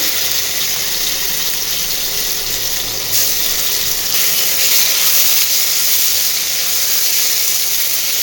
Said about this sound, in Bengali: কড়াইতে দেখো সর্ষের তেল দিয়ে দিয়েছি, এবার লাউ চিংড়িটা করব।